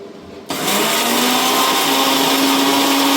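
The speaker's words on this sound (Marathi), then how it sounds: "हे मिक्सरमध्ये मी दळून घेते" Kitchen mixer grinder starts up abruptly and runs steadily, churning semolina and curd into batter; a loud continuous motor whine with a rising tone, no talk.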